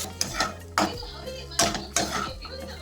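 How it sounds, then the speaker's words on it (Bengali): Pans and metal utensils clatter and scrape while spicy fried potatoes are cooked at home, with several sharp clinks and knocks at irregular intervals, fairly close. "আর এখন ওর জন্য বানিয়ে নিচ্ছি স্পাইসি একটা আলু ভাজা"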